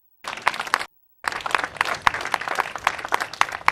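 Audience applause at a college groundbreaking ceremony, a dense crowd of clapping that starts, breaks off briefly, then swells again and carries on steadily.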